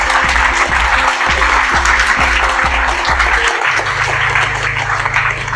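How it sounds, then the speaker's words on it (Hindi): Loud applause filling the space, dense clapping over a rhythmic low thumping beat that stops partway, leaving a steady low hum under the continuing claps. "यार तालियां बनती है पहले"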